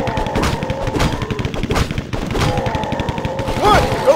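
Gunfire and bomb blasts in the strategy game Dota, a steady rattle of rapid shots with heavy thumps, dense and close, continuing for several seconds with no pause.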